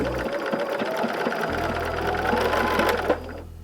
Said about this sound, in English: I've got a Bernina 780 and I'm using stitch 129